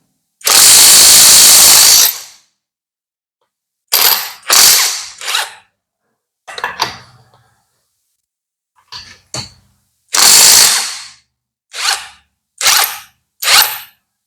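An Impek J-LD JV88-48V 20V cordless impact wrench, rated 350 Nm, working 19 mm wheel bolts: one long loud hammering burst, then a series of shorter bursts and stuttering rattles separated by silences.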